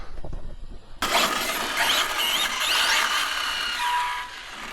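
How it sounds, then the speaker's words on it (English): Arrma Felony RC car, styled like a '69 Camaro and fitted with new tires, whines up sharply after a brief pause, its electric motor revving in loud rising and falling sweeps, close by with no talk. "it's an awesome looking RC, and this thing sounds absolutely amazing"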